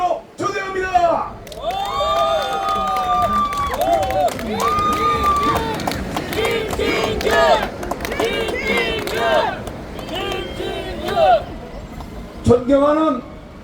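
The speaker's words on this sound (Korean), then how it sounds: "여러분께 소개합니다. 김진규 후보를 여러분께 힘찬 박수로 초대합니다" A crowd at an outdoor election rally claps and cheers as a candidate for provincial education superintendent is welcomed, sustained applause and whoops mixed with music and a loud announcer's voice throughout.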